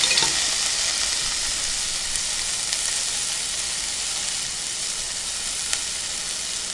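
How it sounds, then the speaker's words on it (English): Tomatoes and onions fry in a hot skillet with a steady, loud, even sizzle throughout, broken only by a couple of faint clicks, with no voices. "my skillet is hot, so I'm going to go ahead and add my tomatoes"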